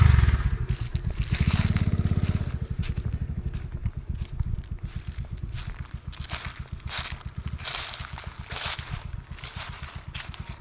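A four-year-old motorcycle stuck in sand idles and revs in uneven surges, sputtering and chugging as if straining, with scraping and crunching noises around it.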